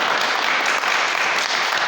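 Brief burst of audience applause at an academic symposium on Tlalnepantla and its towns, a dense continuous patter of many hands clapping, fairly loud and even, with no talking over it.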